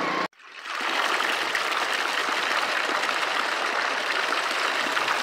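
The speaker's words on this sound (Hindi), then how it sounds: "अंदर से पानी निकल रहा है पहाड़ों के, और यहाँ पे देखिए बोतल के जरिए यहाँ पे पानी आ रहा है" Hot spring water gushing out of a mountainside on the Deosai Road in Pakistan, a dense, steady rushing and splashing close by that starts abruptly after a brief gap and continues unbroken.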